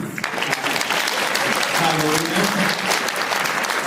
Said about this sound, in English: I want to ask for an additional round of applause for